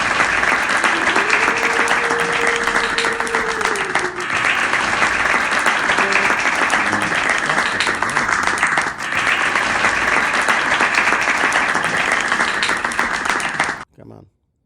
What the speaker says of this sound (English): Get rid of the loop on clap.